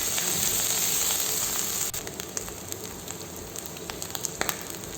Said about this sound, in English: saute it very well